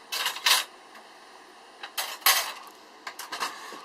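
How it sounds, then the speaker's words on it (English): Dishes are washed after breakfast in a boat cabin, with close, intermittent clinks and clatters of plates and cutlery in short bursts separated by quiet gaps. "cleaning up from breakfast, doing dishes"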